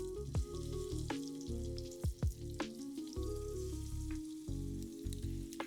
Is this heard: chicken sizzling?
yes